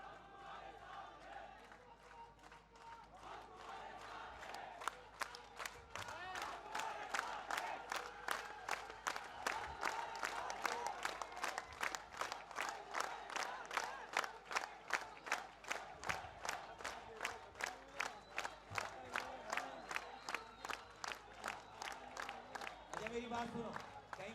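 A large crowd at a political address in Hyderabad claps in a fast, steady rhythm with cheering and shouts, the beats loud and regular and rising in intensity through most of the stretch.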